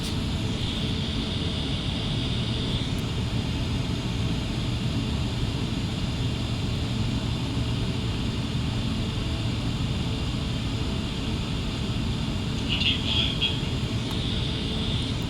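Steady airliner engine drone and broadband wind rush in Microsoft Flight Simulator X while slowing on an ILS approach, a constant loud hum with no talking.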